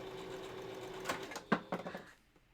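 A sewing machine stitches fabric for a balaclava, a steady whirring hum followed by a few sharp clacks and quick mechanical bursts before it winds down and stops.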